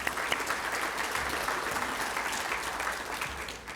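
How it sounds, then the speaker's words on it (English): Steady applause from a large audience, dense and continuous, holding at an even loudness throughout before easing slightly at the end. "let's clap for that"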